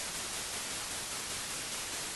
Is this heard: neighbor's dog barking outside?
no